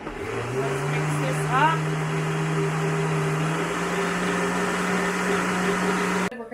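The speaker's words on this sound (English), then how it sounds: "So we'll blend this up." A blender whirs steadily as it mixes powder with water in a home kitchen, a close, constant motor drone that holds for several seconds and then cuts off.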